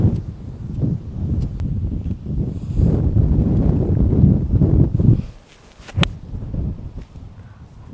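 Gusty wind buffets across an open golf course fairway, a steady rushing roar with a sudden lull near the end before it picks up again.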